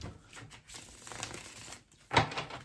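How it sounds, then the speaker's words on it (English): Soft papery riffling and light tarot card flicks, close and quiet, ending in a sharper snap as the deck is squared. "One last shuffle."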